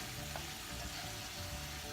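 Salmon frying in a pan on the stove for a kale salad, a steady close sizzle with soft crackling throughout and no talking.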